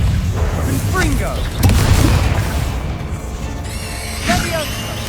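Blasting-curse explosions in the Hogwarts Legacy video game, heavy booming bursts and crashes layered over game effects while a player shouts spell names throughout.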